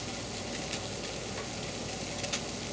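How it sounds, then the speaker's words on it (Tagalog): Water boils in a pot for ginataang bilo bilo, a steady close bubbling and hissing with faint occasional pops throughout. "kumukulo na yung tubig"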